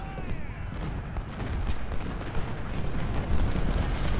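Artillery fire on a Civil War battlefield in the strategy game Ultimate General: Civil War, a steady rumbling barrage of low booms that keeps rolling throughout, dense and fairly loud with no voices.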